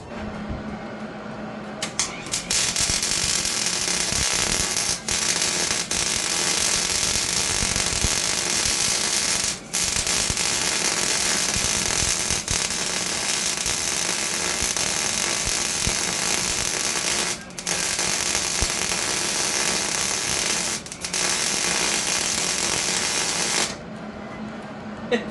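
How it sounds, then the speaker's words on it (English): A small off-grid inverter welding machine running an arc weld, a loud continuous crackling hiss that holds for long runs and breaks off briefly a few times before stopping near the end. "that's probably as much as you're gonna weld with this small of a machine in one go"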